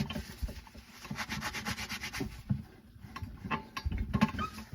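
A hand rubs and cleans the inner surface of a tire before patching, making close, scratchy rubbing strokes in uneven bursts that swell and fade.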